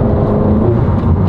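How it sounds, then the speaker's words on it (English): Honda Civic turbo car with a PRL high volume intake accelerating, a loud continuous engine and intake roar close to the microphone. "And yeah, the car pulls really nice. The turbo spools real fast."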